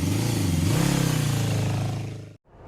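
A group of six motorcycles sets off together on a ride to a resort in Majayjay, Laguna, with engines revving and rising in pitch at close range before cutting off abruptly.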